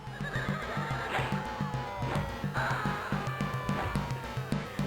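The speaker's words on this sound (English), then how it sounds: "I believe they used that same horse neigh sound in King's Quest VI." A horse whinnies in the video game Conquests of the Longbow, its high neigh rising over rhythmic battle music and background clamor, repeating faintly across the scene.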